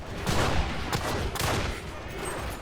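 Rapid gunfire in the video game Enlisted, dense overlapping bursts and shots crackling loud and close, continuous for the whole stretch with no talk heard.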